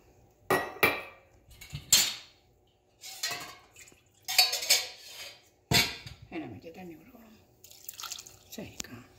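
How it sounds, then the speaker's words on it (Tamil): A spoon scrapes and clanks against a pot while water is mixed into a fish curry with ground ginger and garlic, splashing, with irregular metallic knocks and a voice speaking at times. "இப்போ தண்ணி விட்டு இதை கலக்கிட்டு"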